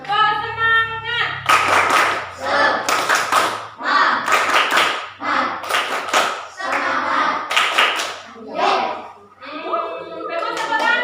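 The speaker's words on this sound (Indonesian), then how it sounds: "kita tepuk semangat lagi. Tepuk semangat." A primary-school class performs a rhythmic "tepuk semangat" clapping routine, bursts of clapping in patterned groups separated by short gaps, with children's voices chanting along between and over the claps.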